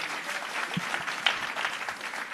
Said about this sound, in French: Je vais vous demander d'applaudir parce que ça va nous donner un peu la pêche.